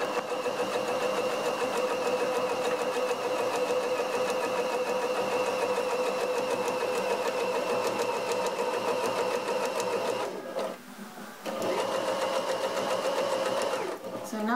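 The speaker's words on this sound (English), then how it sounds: "now we just sew both parts, leaving this open here so that the egg can go there" A sewing machine stitching fabric pieces of an egg warmer together, a steady fast mechanical whir with a constant hum, running almost continuously with one short pause near the end.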